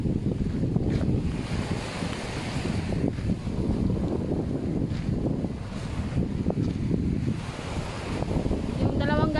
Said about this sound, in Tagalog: ganun pa rin ang dagat, malakas